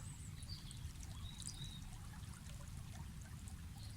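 A small stream trickles and bubbles steadily, soft and continuous, with faint bird chirps now and then.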